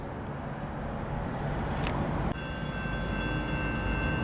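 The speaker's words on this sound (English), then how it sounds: "now here comes the eastbound train" An eastbound local freight train approaches in Battle Creek, Michigan, as a steady broad rumble of rolling wheels and engine noise, with a brief hissing burst partway through and thin sustained tonal whines following.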